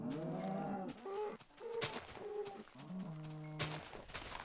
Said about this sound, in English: Gonna kill these cows in celebration.